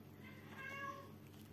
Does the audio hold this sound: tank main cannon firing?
no